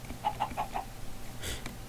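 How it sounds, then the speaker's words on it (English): A few short chicken clucks in a quick series in Minecraft, followed by a brief burst of noise, over faint background hum. "The little chickens."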